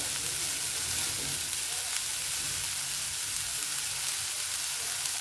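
Shredded cabbage and finely chopped carrot stir-fry over high heat for veg spring roll filling, a continuous bright sizzle with scraping and tossing in the pan, loud and close.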